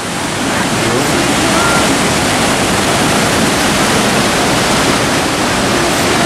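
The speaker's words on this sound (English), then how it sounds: "Waterfall." A Pacific Northwest waterfall roars as a loud, steady, broadband rush of falling water that stays constant throughout, with a voice faintly present beneath it.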